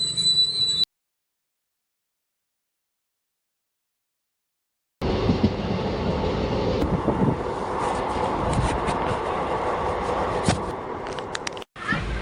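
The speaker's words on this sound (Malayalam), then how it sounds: "അപ്പോൾ കോയമ്പത്തൂർക്കുള്ള ട്രെയിൻ വന്നിട്ടുണ്ട്" After a silent gap, a train's low, steady rumble rolls in with faint metallic squeals and continues for several seconds as it arrives at Palakkad railway station.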